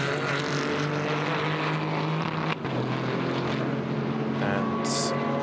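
A BMW GT4 race car runs toward turn 12 at the Nürburgring during a GT4 European Series race, its steady engine drone holding loud and constant under commentary throughout.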